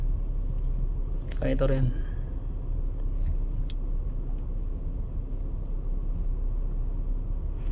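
Heavy car traffic on Khalid bin Alwalid Street in Riyadh: a constant low rumble of passing vehicles with a brief louder surge near the start, and someone speaks briefly over it.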